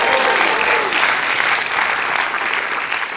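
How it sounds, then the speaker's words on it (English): An audience at a TEDxTeen talk claps in sustained, dense applause, loud and even throughout. "you give yourself a round of applause"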